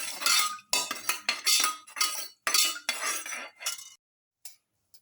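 A spoon scrapes and clinks steadily against a metal pot while beef pilaf is stirred, loud and close, ending with a couple of faint taps.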